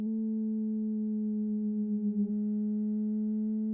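A synthesizer filter with its resonance turned all the way up self-oscillates, producing a steady, loud pure tone with faint overtones that holds for nearly four seconds, wavering briefly near the end. No one speaks over it.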